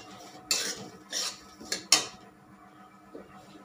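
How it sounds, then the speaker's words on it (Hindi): Semolina roasting in a pan for sooji halwa is stirred over medium heat, producing a few sharp spoon scrapes and clinks against the metal pan with short quiet gaps between them. "इसको चलाना नहीं बंद करेंगे हम, चलाते हुए भूनते रहेंगे इसको।"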